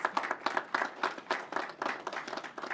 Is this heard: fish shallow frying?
no